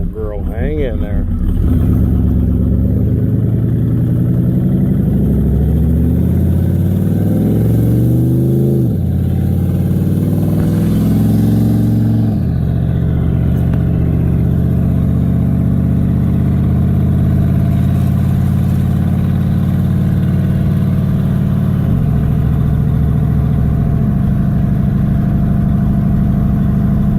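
An old truck with a freshly rebuilt 10-bolt rear axle drives down the road during break-in, its engine droning loud and steady throughout, rising and shifting pitch with gear changes and revs.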